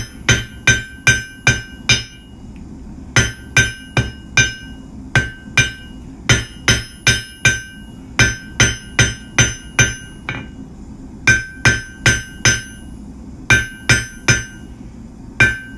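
A hammer strikes hot steel, drawing out a long taper while forging a J hook. Bright, ringing blows land in quick rhythmic bursts of several strikes, with brief pauses between groups.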